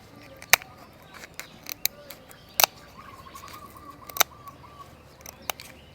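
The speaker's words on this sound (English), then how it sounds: "we use the scissor to cut on top of here" Kitchen scissors snip through a cooked lobster shell for a Thai tom yum, giving a few sharp, close crunching cuts spaced apart over a quiet background.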